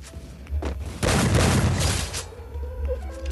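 Gunfire in a shooting video game, a dense burst of shots and booms swelling for about a second and a half before tailing into a lower rumble, fairly loud with no talk over it.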